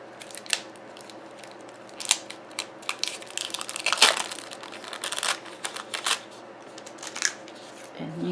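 Plastic wrapping being peeled and crinkled off a nail buffer, close and quiet, with irregular crackles and sharp rustling bursts spread across the stretch.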